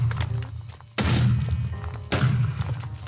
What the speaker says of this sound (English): We have bubble bombs working.